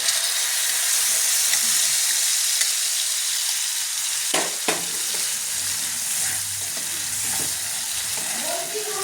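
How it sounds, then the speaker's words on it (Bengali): Spiced gravy fries in hot oil in a pan with a continuous loud sizzle and hiss, broken by a few sharp scraping stirs partway through. "গ্রেভিটা আমি ভালো করে একটু কষিয়ে নেব"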